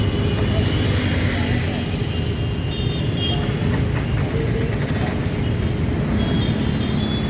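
Vehicles moving along a highway make a continuous, loud traffic rumble and road noise with no distinct breaks.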